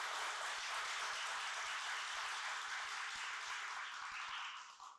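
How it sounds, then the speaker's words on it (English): Applause from an audience for two students, a full, even burst of many hands clapping at moderate distance that holds steady and then tapers off at the end. "Let's have another round of applause for these two incredible students."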